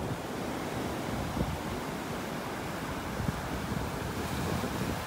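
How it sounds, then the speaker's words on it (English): Rough surf rolling onto a Gulf of Mexico beach in North Naples, Florida, a steady roar of breaking waves mixed with wind buffeting the microphone, continuous and fairly even, with no talking. "Usually we don't have waves like this."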